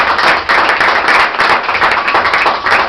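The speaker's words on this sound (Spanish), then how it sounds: "¿Cuánto le dio un aplauso al Señor?" A church congregation claps loudly and close up in quick, uneven bursts of hand claps, with no talk over it.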